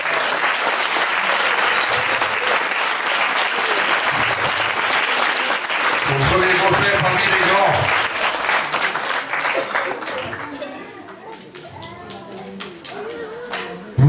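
Concert audience applauding a young trumpeter at his first concert, a Christmas performance by a music society. Loud, dense clapping fills most of the stretch, thinning toward the end, with some voices mixed in.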